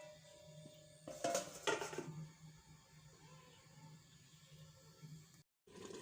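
A metal lid is set over a pot of chicken curry on the stove, giving a couple of close clattering knocks early on before a quiet kitchen hum takes over.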